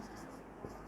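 Chalk or marker scratches lightly across a classroom board during a physics lecture, a soft continuous scraping with one brief louder tap, faint and close.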